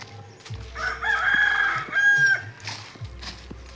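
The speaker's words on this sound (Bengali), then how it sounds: "মোরগ ডাকছে।" A rooster crows once near a small rural village home, a clear, loud drawn-out call with a rising then held tone, preceded and followed by quieter background noise.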